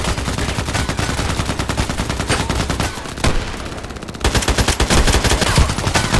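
Continuous rapid automatic gunfire from the AKMS rifle in the shooter game Contract Wars, loud and dense bursts with only a brief lull before the firing resumes.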